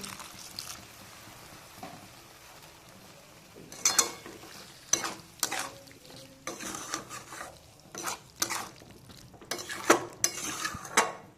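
Spiced potatoes sauté with a little water in a pan for ghugni: quiet stretches broken by bursts of stirring, scraping and clinks of the spoon against the pan, over a faint sizzle.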